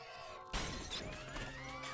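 Glass shatters in a monster movie scene set inside a supermarket fogged in by mist, a sudden loud crash followed by scattering, tinkling shards over a dense, busy cinematic soundtrack.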